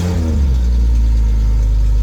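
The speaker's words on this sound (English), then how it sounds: "You hear the big hole in the exhaust." A BMW E30 engine with a big hole in the exhaust settles from a rev into a steady idle, a loud, close, low rumbling drone that continues evenly without talk.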